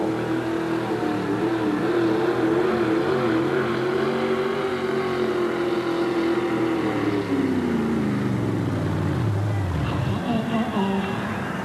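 A monster truck engine roars loudly through a run at a 1987 USHRA event in Oakland, the revs climbing, holding and then sagging off toward the end, with an announcer's voice faintly mixed in.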